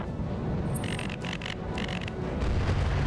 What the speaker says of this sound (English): There were explosions, though.